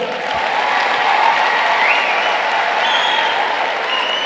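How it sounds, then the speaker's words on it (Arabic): An audience at a political party gathering bursts into sustained applause, a dense wash of clapping hands that swells and holds for several seconds, with a few faint whistles above it. "صفقوا عليهم"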